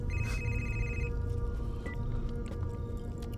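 A telephone rings in a tense film scene, one bright electronic trill lasting about a second near the start, followed by a brief shorter chirp, over a busy background of music and noise.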